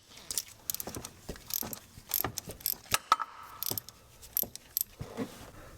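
A hand ratchet clicks in quick irregular strokes while loosening the bottom bolt of a drive belt tensioner on a Mercedes. It sounds close but moderately quiet, with metallic clinks among the strokes.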